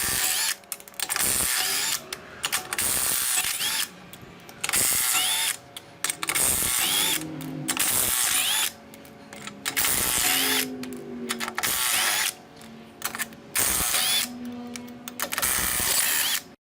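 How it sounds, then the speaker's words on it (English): An impact or power tool removing the wheels from a jacked-up RV on jack stands, buzzing and ratcheting in loud repeated bursts of one to two seconds with short silent gaps between them. "and then we're going to take these wheels off."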